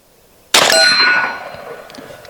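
A gold dot pellet from a BINTAC T9 air rifle strikes a metal target: one sharp, loud metallic clang that rings and slowly fades over about two seconds.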